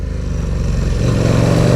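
A KTM RC8 sport motorcycle engine runs close and loud, its low throbbing idle growing heavier toward the end as it revs slightly, with no voices.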